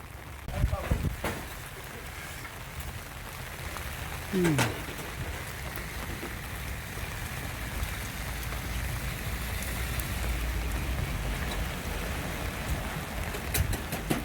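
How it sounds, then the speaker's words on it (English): Pouring rain falls steadily at a house build site while roofing and gutter work goes on, a dense continuous hiss with a few knocks and brief faint voice-like sounds. "Installing the gutter in the pouring rain"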